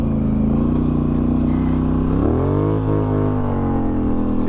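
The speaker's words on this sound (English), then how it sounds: "Hear my exhaust." An ATV's exhaust rumbles loud and close on a desert wash trail on the Peace Trail in Arizona, a steady deep drone that swells as the engine revs up midway, with no talking.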